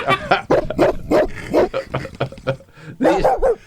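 Dogs at the Westminster Dog Show bark in a rapid, loud series of close, sharp barks with short gaps between them.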